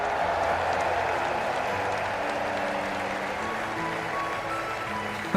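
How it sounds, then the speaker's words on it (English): Steady crowd applause with clapping and cheering for tournament victors in Trails in the Sky 1st Chapter, joined by faint tonal music in the background. "let us shower these victors with thunderous applause"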